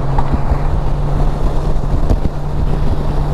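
Loud, steady wind buffeting the microphone while riding a 2019 Honda Goldwing motorcycle, a continuous rushing roar with a low engine hum beneath it.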